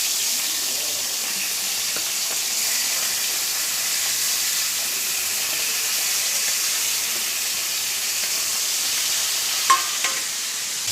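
Hilsa fish tail and head, coated in turmeric and salt, frying in hot oil with a loud, steady sizzle and hiss, joined now and then by light stirring scrapes.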